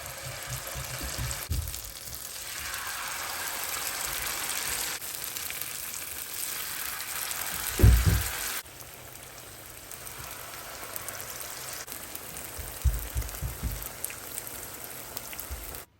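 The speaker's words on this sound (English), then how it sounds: "So now let's get the frying" Jamaican-style ham fritters frying in hot oil in a pot, a dense, steady crackling sizzle that carries on throughout with a louder splash and bubbling partway through.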